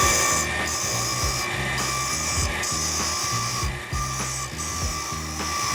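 A Ryobi power tool trues a ring cut from a Pagani wheel with a steady, loud, close grinding whir. Rhythmic scraping pulses repeat where the tool catches the high spots.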